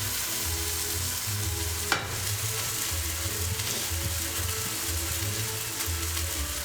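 Food sears in a hot pan, a continuous close sizzle with a sharp clack of a utensil near the start and low rumbling underneath, no one speaking.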